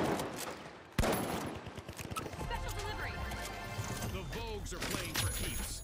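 Rapid gunfire bursts crackle through a match of the video game The Finals, with repeated shots and clattering impacts over steady game noise while players talk.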